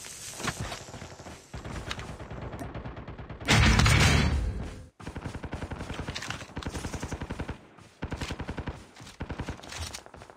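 Rapid automatic gunfire from a video game set on Alcatraz, loud bursts of machine-gun fire broken by short pauses, with one dense, heavier volley in the middle.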